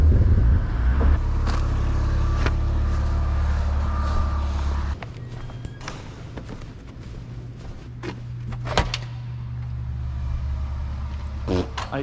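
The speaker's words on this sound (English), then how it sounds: "I guess I left my car on." A drift car's engine idles, a loud steady low rumble that drops to a quieter hum partway through, with clicks and someone speaking over it.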